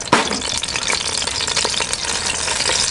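Onion browning in a good glug of olive oil in a camp pan over a homemade brick rocket stove, a steady close sizzle and crackle with occasional stirring scrapes and no talking.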